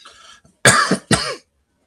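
Troy coughs, two harsh, close coughs in quick succession following a faint murmur, then silence.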